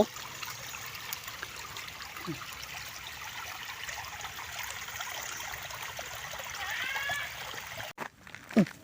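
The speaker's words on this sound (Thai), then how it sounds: "น้ำไหลลงเขา" Water trickles and rushes steadily in a stream flowing down a mountain, a constant outdoor wash that swells slightly toward the end.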